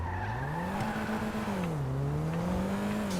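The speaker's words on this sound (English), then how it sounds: "it sounds surprisingly good for a literal smart car" A smart car's engine revs and hums in GTA Online, its steady tone rising and falling over about three seconds with a faint tire squeal, close and alone with no talk.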